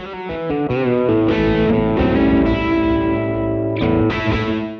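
Electric guitar through an overdrive pedal plays a run of chords and single notes, thick and gritty like a cranked Fender tube amp, with sustained crunchy distortion, loud and up front with no voices.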